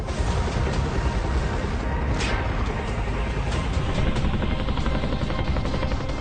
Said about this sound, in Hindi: कॉम्बैट हेलीकॉप्टर चिनूक की गड़गड़ाहट गूंज रही है